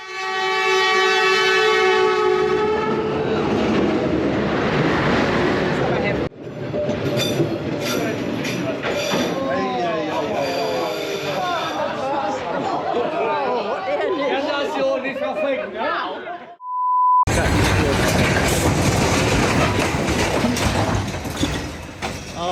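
A loud train horn blares, then a train rumbles closely past along a street railway in Hanoi while people chatter nearby, with a brief electronic beep near the end.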